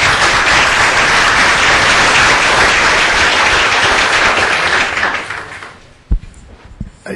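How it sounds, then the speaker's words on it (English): Loud, dense applause from an audience at a panel on torture and the war on terror, a steady wash of clapping that fades out near the end, leaving a few isolated claps and thumps. "we really should give him a big round of applause"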